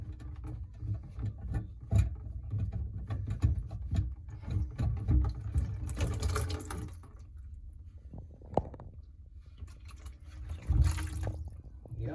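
Water drains out of a sink's J-bend trap into a bucket below during removal, a close, irregular run of trickling and splashing with scattered clunks of the pipe being handled.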